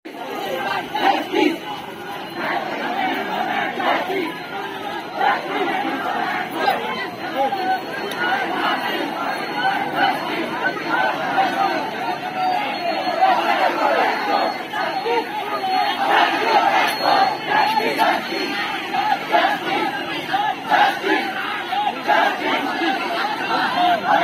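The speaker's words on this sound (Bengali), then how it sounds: "বুধবার সেই স্কুলের প্রায় 1200 ছাত্র সামিল হলো এই বিক্ষোভ মিছিলে।" About 1200 school students march in a street protest, their crowd voices forming a dense, steady roar of chanting and shouting that keeps up without a break.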